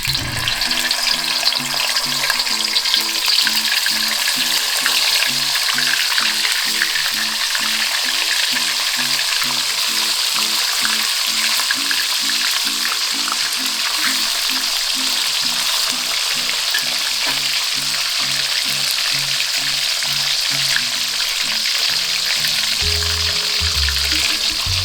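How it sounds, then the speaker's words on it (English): Tofu skin (fucuk) fries in hot oil over a lowered flame for Hakka yong tau foo, a loud, steady sizzle and crackle that runs unbroken and close throughout. "Now we need to lower the flame slightly to fry the fucuk."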